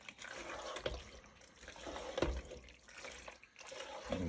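Milk being stirred into cream of mushroom soup in a pan, a soft wet swishing and liquid sloshing with a few clinks, close and moderately quiet.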